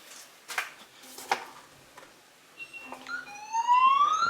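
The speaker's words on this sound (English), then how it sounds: "the siren is actually beeping" Siren alert from a Sharp Cloud smarthome security system set off by a door opening, a few sharp clicks followed by a rising, piercing electronic wail that grows louder at the end.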